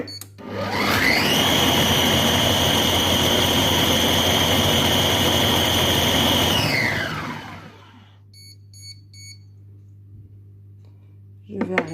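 A Compact Cook Pro multicooker runs at speed 8, its motor whirring loud and steady for about six seconds before spinning down, followed by quiet with faint beeps and a brief clatter at the end.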